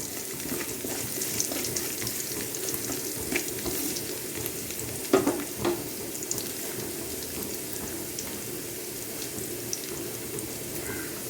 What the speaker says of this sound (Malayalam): ഇഞ്ചി ഒന്ന് ബ്രൗൺ ആകണം